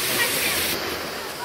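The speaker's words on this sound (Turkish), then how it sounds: "Şelalenin altına gittik." A waterfall at Nebiler falls near Dikili rushes with dense, loud broadband roar, close and continuous, with splashing water and voices faintly mixed in.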